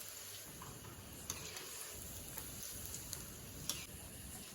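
Potato and carrot bonda fry in hot oil with a soft, steady sizzle, broken by a few light taps and clicks as the pieces are turned over, quiet and close with no talking.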